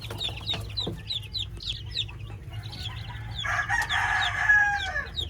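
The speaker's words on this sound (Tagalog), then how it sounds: "So, ayan po yung mga sisiw natin." Chicks in a brooder give a run of small, high peeps at a steady pace, then a denser burst of louder chirping near the end, with a low hum underneath.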